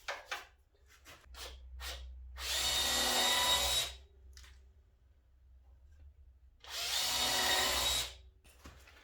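A power router cuts into a door for an AGB magnetic euro lock using a Tidy Tradie router jig, two loud, sustained bursts of whining cutting noise separated by quieter handling clicks.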